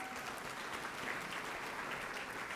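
A seated audience at a chamber of commerce State of the Town event gives a warm round of applause, even and continuous, heard from a moderate distance in a large room.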